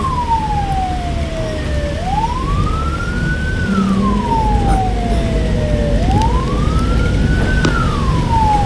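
Wailing ambulance siren heard from inside the vehicle during heavy rain, rising and falling in slow sweeps over a steady road rumble and engine noise.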